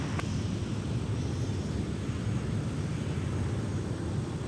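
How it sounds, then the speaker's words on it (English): An Airbus A350-900 heavy jet taxiing at MSP airport, a steady, distant engine roar with a broad rumble holding even throughout, no voices. "There's 160 Heavy with A350-900."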